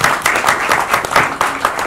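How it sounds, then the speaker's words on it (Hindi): Loud, close applause breaks out for a writer at a film screening event, brisk overlapping claps in uneven bursts with no pause over a couple of seconds. "एक बार जोरदार तालियां सभा जी की."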